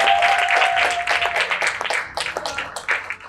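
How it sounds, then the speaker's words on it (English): Audience applauding a minister at an equity event, a burst of clapping from a crowd that fades toward the end, with a voice briefly audible over it. "Give her a round of applause."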